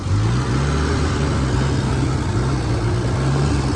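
A car engine, first started in ten years, idles steadily and loudly while its carburetors are tuned, a continuous low rumble with no breaks.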